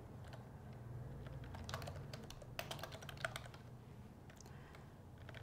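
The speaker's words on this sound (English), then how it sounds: "you can either hand type it in" Fingers tapping steadily on a computer keyboard, a quiet run of irregular clicks and key presses close by, with no talking.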